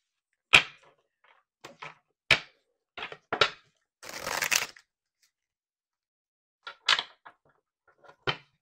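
Tarot cards snap and riffle in a few sharp bursts with a brief shuffling rustle in the middle, separated by quiet gaps; no talking.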